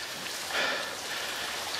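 Rain falling, a faint steady hiss of fine drops with a slight swell partway through.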